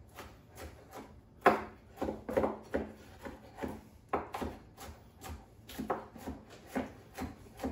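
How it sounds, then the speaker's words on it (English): A kitchen knife chopping a pepper on a wooden cutting board for meat loaf, with a steady series of quiet, dull chops and scraping strokes repeating about every half second. "You can cut the pepper up big"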